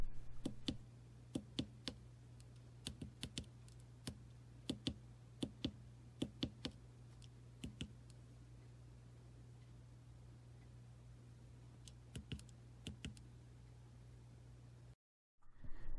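Computer mouse buttons clicked while operating a shift register circuit simulator, faint sharp isolated clicks in small bursts spread over a quiet steady hum.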